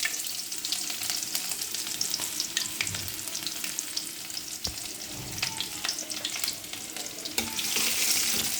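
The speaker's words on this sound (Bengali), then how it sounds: "এখন ভালো করে ভেজে এই তো আমার ফোড়নটা রেডি হয়ে গেল" Dried chilies, five-spice and onion frying in hot oil as a tempering for dal, a steady close sizzle and crackle with occasional stirring scrapes, no voices.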